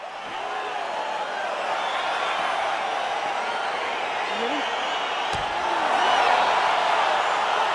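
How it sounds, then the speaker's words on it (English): Arena crowd at a UFC fight swells with excitement as the bout gets underway, a dense, steady roar of many voices with scattered whoops, loud and continuous throughout. "crowd getting excited as this fight gets underway"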